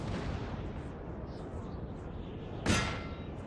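A 6-pounder cannon firing in Napoleon: Total War, set against a constant low rumble of battle noise, with a single sharp, heavy boom near the end that then trails off.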